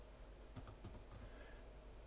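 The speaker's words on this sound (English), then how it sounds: "I type some random characters here" Random keys tapped on a computer keyboard in a few quick clicks, soft and fairly close, over a steady low background hum.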